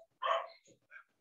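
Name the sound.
dog barking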